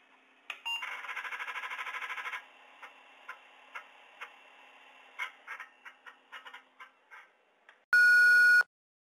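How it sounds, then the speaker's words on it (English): An answering machine in the video game Thimbleweed Park clicks and ticks for a few seconds, then lets out one loud, sustained electronic beep at the end. "Leave a message at the beep."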